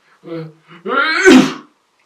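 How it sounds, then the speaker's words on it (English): A single sneeze, voiced and fairly loud, building from a short intake into a sharp burst, heard up close with nothing else around it. "Old Bear sneezed."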